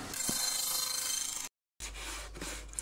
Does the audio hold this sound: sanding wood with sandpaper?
yes